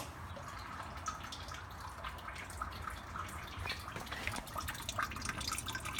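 Water drains from an oil catch tank through a battery-powered electronic solenoid valve, a faint, steady trickle and drip of liquid continuing evenly throughout.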